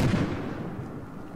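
Rifle gunfire in the Battlefield Hardline video game, a heavy booming burst at the start that rumbles and fades away through the rest of the brief moment.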